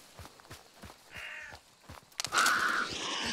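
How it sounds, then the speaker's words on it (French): Crows cawing in a French horror video game, several harsh caws rising to a loud burst near the end over soft rhythmic footsteps, with no talk. "Vos gueules, les corbeaux, vous êtes sérieux?"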